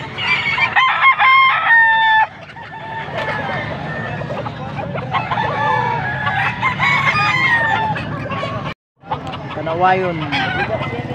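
Gamefowl stags crow repeatedly at a busy outdoor market sale in Pampanga, loud and overlapping, with clucking fowl and a constant crowd murmur and voices throughout.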